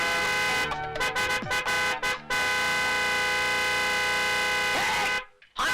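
A car horn blares in a long sustained honk with a few short breaks, loud and close, cutting off abruptly near the end.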